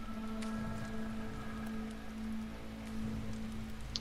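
Rain falls in a forest at night, a steady soft patter of drops with scattered sharper taps, heard alone alongside a low constant hum.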